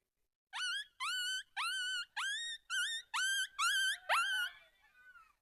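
A voice imitates a puppy with eight quick, high yelping whimpers in a steady rhythm, close and clear, trailing off into a soft whine.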